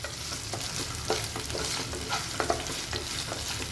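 Potatoes, cut chilies and curry leaves frying in a pan for batata poha are stirred, with several scraping strokes over a constant close sizzle and no talking.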